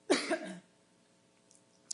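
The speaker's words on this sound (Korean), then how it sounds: "목소리를 조금 높이니까 기침나" A single short, close cough from someone speaking at a seminar, sharp at the start and fading within half a second, followed by near silence.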